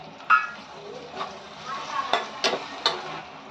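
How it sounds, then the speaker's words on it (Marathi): Onion and tomato stirred and sautéing in a pan for a potato bhaji, with a soft sizzle and several sharp scraping stirs, heard faintly under someone talking. "कांदा नरम पडेपर्यंत परतून घ्यायचा त्याच्यामध्ये एक टोमॅटो घालायचा"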